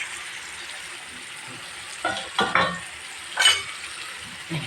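Liver being stir-fried in a pan for a Bengali spiced liver bhuna, a steady sizzle with a few louder bursts of stirring and scraping, close by, no voices.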